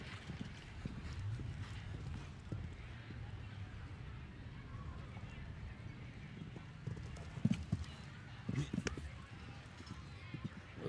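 Hooves of a show jumper clip-clopping over the footing of a show jumping ring at a grand prix competition, a steady rhythmic beat with a few sharper thuds, under continuous commentary and faint crowd murmur.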